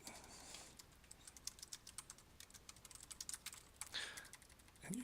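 Irregular clicking of keys being typed on a computer keyboard, close and fairly quiet, in quick uneven bursts with short pauses between them.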